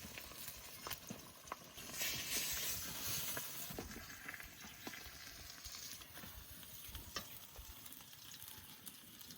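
Pieces of silver carp fry in oil in a village kitchen, a faint steady hiss and sizzle with scattered soft clicks and taps, with no speech over it.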